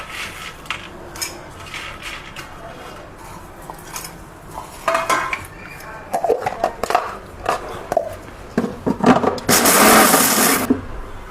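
Kitchen mixer grinding peanuts coarsely for sabudana medu vada, short clattering bursts of nuts rattling in the jar that build to a loud sustained whirr near the end.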